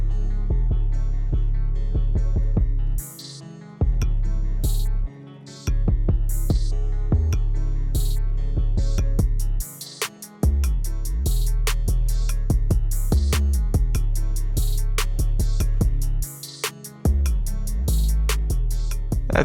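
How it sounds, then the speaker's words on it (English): Sewing machine stitching the side seams of a hoodie, a steady close mechanical hum and needle clatter that runs in several bursts, stopping briefly between passes. "Let's sew these sides up and then see where we can go from there."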